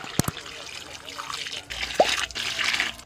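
Water poured into a cooking pot of quail for biryani, a trickling, splashing stream that rises toward the end, with a few sharp knocks and a voice speaking over part of it.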